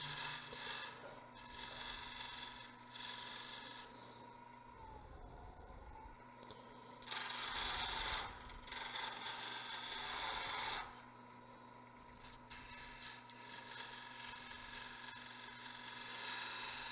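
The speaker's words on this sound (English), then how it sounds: "I'm making a shoulder here to put into a chuck, just scraping" A lathe tool scrapes a turning wood blank to cut a shoulder for a chuck, making a steady raspy rubbing that runs continuously and swells and eases in long stretches over a constant machine hum.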